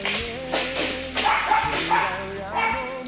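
A Shiba Inu mother dog in a clean kennel with her puppies gives repeated short barks and yips, close and fairly loud, mixed with people talking.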